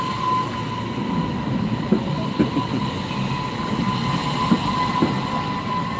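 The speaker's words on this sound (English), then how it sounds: "There goes a train." A passing train rumbles steadily with a persistent metallic whine and periodic clacks from the wheels on the rails, heard fairly close with no talking.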